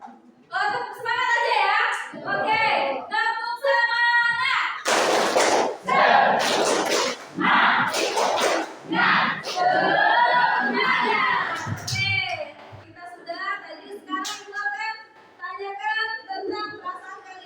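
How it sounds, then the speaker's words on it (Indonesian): Schoolchildren in a classroom perform a rhythmic spirit clap chant, shouting in unison between sharp bursts of group clapping. The chant and clapping repeat in a lively pattern from start to finish. "Oke, tepuk semangat."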